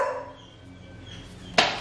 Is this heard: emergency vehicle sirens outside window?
no